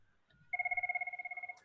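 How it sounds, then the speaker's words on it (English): A mobile phone rings during a COVID testing media briefing, a quick burst of rapid electronic trills after a brief faint tone, fairly close and alone without talk. "Sorry, I need to turn my phone off."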